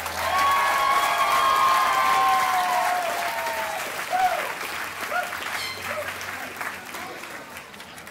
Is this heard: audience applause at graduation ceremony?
yes